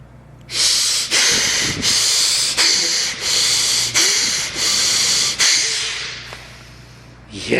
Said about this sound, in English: start breathing long, breathing from the belly